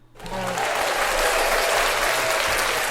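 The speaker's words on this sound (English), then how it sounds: "gotta give you a round of applause" A crowd gives journalist Shay a round of applause during an interview, with clapping swelling in quickly and holding as a dense, loud, continuous wash of claps.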